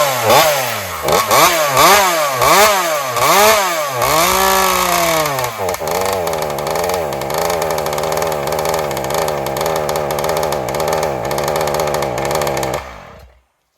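A Joncutter 5800 chainsaw, set up for alcohol fuel and running without an air filter, burns regular gasoline to purge the alcohol, revving loudly in repeated surges before settling into a steady high idle and then cutting out abruptly.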